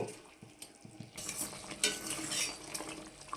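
Bread pieces simmer in sugar syrup for bread halwa while a spoon stirs and mashes them in the pan, soft bubbling sizzle under intermittent scraping and clinks, fairly quiet and close, no voices.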